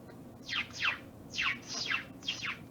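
A person imitates a bird chirp with five quick whistled, downward-sweeping chirps, grouped in pairs and a single, fairly faint against quiet room noise.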